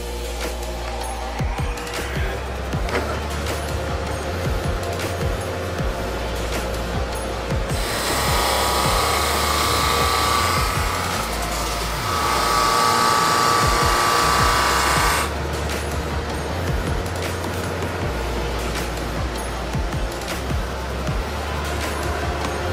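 A JET open stand drum sander runs with a constant motor drone, then grows louder and harsher for several seconds as a wooden cutting board is fed through before settling back to idle.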